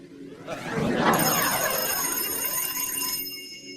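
A frog-shaped telephone rings with a bright, trilling electronic bell that starts after a short pause and continues for a few seconds before cutting off.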